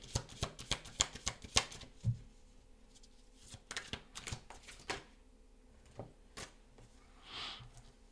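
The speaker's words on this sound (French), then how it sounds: "Tirage de cartes générales." Tarot cards are shuffled and handled for a general reading, a quiet burst of rapid riffling clicks followed by slower scattered taps and card slaps, close and faint with no talking.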